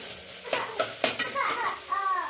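Finely chopped tomatoes sautéed in a pan for methi masala rice, a low sizzle with several distinct scraping and clinking stirs of a utensil, close and moderately quiet, with a brief faint voice.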